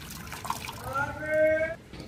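Water is poured from a tap into a container set out for birds, a rising filling tone under a person talking, outdoors on a mild day during lockdown.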